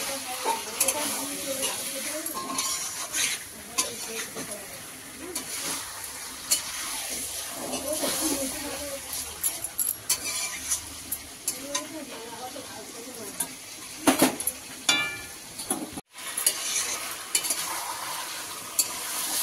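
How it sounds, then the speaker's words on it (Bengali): Chicken pieces frying in a pan while being stirred, a continuous sizzle and hiss with repeated scraping and knocks of the spoon, some talking heard beneath. "মাংস দিয়ে নাড়াচাড়া হচ্ছে"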